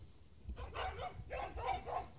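Dogs at an allotment give a short run of faint, distant barks, several quick yelps in under two seconds against a quiet outdoor background.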